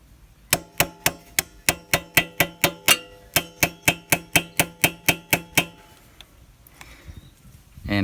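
A screwdriver is hammered behind a lock-washer tab on a KTM 690 Enduro R countershaft sprocket, giving about twenty sharp, ringing metallic taps in a steady close rhythm before stopping.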